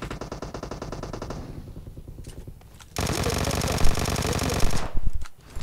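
Rapid automatic gunfire in PUBG Mobile, dense bursts of loud rattling shots, a first volley fading out, then a longer, louder stream of fire that cuts off near the end.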